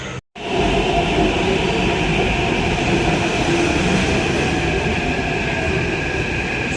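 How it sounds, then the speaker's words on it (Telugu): A metro train rumbles loudly and continuously close by, a steady roar of wheels and motors after a brief silence at the start. "మెట్రో కోసం వెయిట్ చేస్తుంది"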